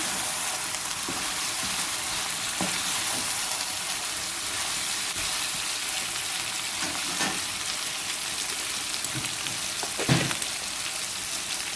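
Masala for stuffed eggplant frying steadily in a pan, a continuous sizzle with a few soft stirring scrapes and one sharper clink near the end, with no talking.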